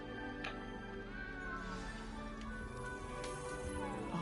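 A cat meows a few times in the video game Hogwarts Legacy, short faint calls over quiet game background sound.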